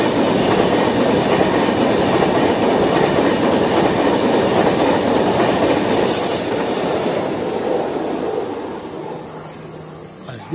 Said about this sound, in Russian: А вот скоростной поезд приезжает.